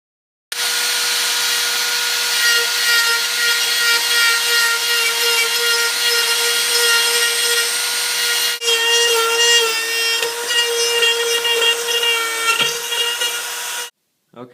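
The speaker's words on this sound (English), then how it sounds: "we'll come back and start sanding this thing down" A pinewood derby car block being worked by hand, with steady continuous rasping and abrasive rubbing on pine, loud and close, running without a break before a brief pause and stopping abruptly.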